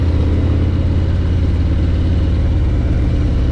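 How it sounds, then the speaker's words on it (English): A 2021 Harley-Davidson Road Glide Limited with a Milwaukee 8 engine accelerates, a loud, close, deep rumbling drone that holds steady throughout with strong low engine pulses. "that Milwaukee 8 engine rocks."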